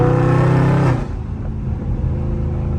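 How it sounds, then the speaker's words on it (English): A Chevrolet Corvette C8 rolls past at night, its engine loud and close for about a second before fading into a steadier, lower hum of the car the listener rides in. "That's a C8 that rolled by."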